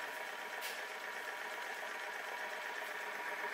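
A Huxtable hot air Stirling engine, Australian made, running steadily with a soft, even mechanical whir and light rapid ticking, fairly faint and close, with no talking.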